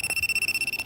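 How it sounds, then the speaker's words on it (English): A hidden-camera detector beeps rapidly in a rental room, giving a fast, even string of about a dozen short, high, faint electronic pulses. "that beeping that you hear in the background is because it's working"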